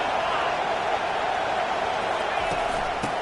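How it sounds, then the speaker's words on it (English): Stadium crowd at a USC vs Arkansas football game, a dense, loud, continuous roar of many voices filling the space, with a commentator's voice over it. "This crowd bringing the energy and noise early."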